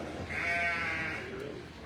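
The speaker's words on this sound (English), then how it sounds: "And here goes Mary into sheep number 2" A sheep bleats during a blade shearing competition, a single drawn-out wavering cry over the background of the event, moderately close.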